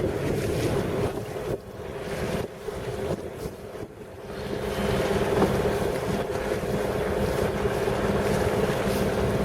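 A boat moving through open sea just out of Carmen Bay, with steady wind buffeting the microphone and waves washing against the hull, continuous and fairly loud.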